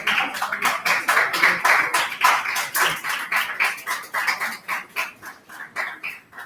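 An audience at a beginner AI workshop claps for the web dev department, a steady patter of many hands lasting several seconds at even loudness with no talking.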